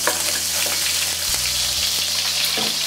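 Shredded ginger and cut scallions crackle in hot oil in a wok, making a bright, continuous sizzle with a low steady hum underneath and no speech.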